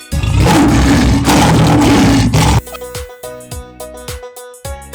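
A lion roars loudly and close in the opening half, a sustained rough growl before the sound breaks off into brighter plucked musical tones.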